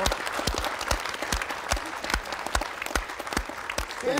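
A live audience claps for guests from Gothenburg at a Swedish comedy show, a full, even wash of applause with individual sharp claps standing out, steady for several seconds.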